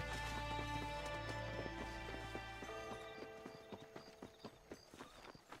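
Horse hooves clip-clop in Red Dead Redemption, a quick steady gait that starts under a low rumble and comes through clearly as separate beats toward the end.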